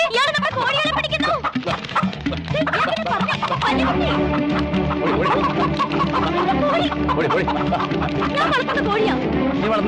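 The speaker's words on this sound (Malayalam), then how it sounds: "കോഴികളെ പിടിക്കുന്നു." Chickens cluck and squawk loudly and continuously as they are chased on a farm, with frantic flapping and scuffling mixed in and some voices faintly underneath.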